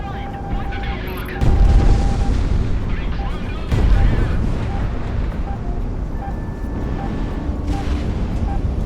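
A missile strikes the player's jet in the flight combat game Project Wingman: a heavy, booming impact swells over a constant engine roar, with a second surge near the middle and a long, sustained rumble after.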